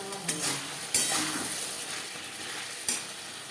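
Brinjal being sautéed with spices in a pan over a high-to-medium flame: a steady broadband sizzle with scraping stir strokes and a few sharp clinks of a utensil against the pan, close and fairly quiet, no voices.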